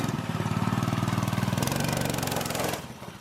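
A 6 horsepower mini bike engine revs hard and steady, its rapid pulsing buzz loud and close, shifting pitch midway before cutting back toward idle at the end.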